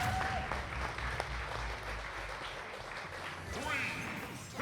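Crowd applause in a video game plays as a steady, fairly quiet wash of clapping under someone talking over it.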